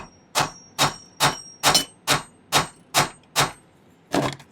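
A hammer strikes the end of a metal wire nine times in a steady, even rhythm, flattening it into a nail head, each blow a sharp ringing clang, close and fairly loud with short pauses between.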